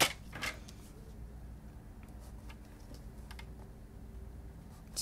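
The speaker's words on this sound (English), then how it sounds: "This will cut 3 equal pieces, 1 1/2 inches." Card stock is cut into equal pieces on a paper trimmer for card making, with a sharp cut at the start, then soft scattered ticks and slides, and another cut at the end, close and quiet, with no talking.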